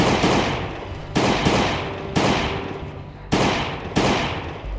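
Pistol shots ring out in a video game, five sharp reports spaced about a second apart, each with a long decaying tail.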